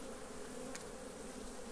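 Apis honeybees buzzing around a honey-filled log of cabiúna wood, a steady, dense insect drone with no talking, holding even throughout.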